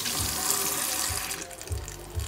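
Tap water runs steadily into a sink or tub while a dog is rinsed during its bath, a continuous broadband splash with a few low thumps of handling.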